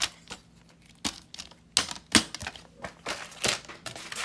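Scissors snip small paper flaps off a sewing-themed interactive journal, a series of crisp, irregular cuts and rustles, close and fairly quiet, about ten sharp clicks over a few seconds.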